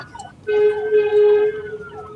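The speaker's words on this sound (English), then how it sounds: "Oh, there's just an ambulance going through." An ambulance siren passes through traffic, a steady wailing tone rising clearly above road noise for about a second before fading back into the background rumble.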